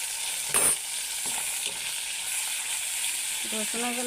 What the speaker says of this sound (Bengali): এইখান রসুন পেঁয়াজ শুটকি সব ভাজ হয়ে গেছে, শুটকিও গলে গেছে।